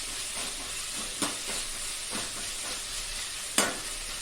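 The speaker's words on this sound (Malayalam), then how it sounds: "പെട്ടെന്ന് ഇത് വഴറ്റി കിട്ടാൻ വേണ്ടി ഒന്ന് ഇളക്കി കൊടുത്തിട്ടേ ഇരുന്ന് പെട്ടെന്ന് ആയിക്കോളും." Egg curry ingredients being stirred and sautéed in a pan, giving a steady low sizzle with a few distinct scraping knocks of the spoon, one sharper clack near the end, close and moderately quiet, no talking.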